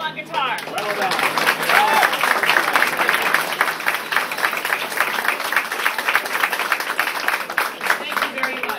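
Sustained audience applause and clapping at a benefit concert honoring saxophone and guitar players, dense and steady throughout, loud and close, with a few voices mixed in.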